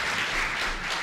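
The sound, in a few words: audience clapping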